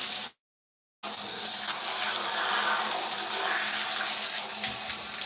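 Water runs steadily from a tap to rinse a section of curly hair, a close, even splashing rush that starts after a brief moment of silence and continues without a break.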